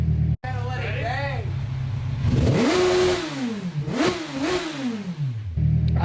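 A Kawasaki Ninja 1000 motorcycle fitted with a slip-on exhaust revs several times from idle. The engine note climbs and falls in repeated close, loud throttle blips before settling back to a steady idle.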